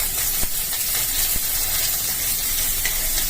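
Coriander leaves dropped into a hot mustard seed tempering in a Bengali home kitchen hiss and sizzle loudly and steadily, with small crackles throughout and no voices.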